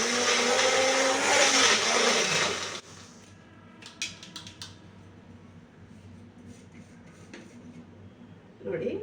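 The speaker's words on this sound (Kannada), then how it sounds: "ಇವಾಗ ಇದನ್ನು ಮಿಕ್ಸಿ ಮಾಡ್ಕೊಳ್ಳೋಣ." A mixer grinder coarsely grinds fenugreek chutney, roaring loud and steady for about three seconds before cutting off, followed by small clicks and a short final whir.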